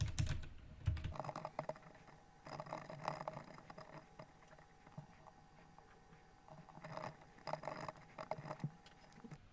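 Computer keyboard being typed on while writing code, with quick irregular bursts of soft key clicks and short pauses between them, close and fairly quiet, no voices.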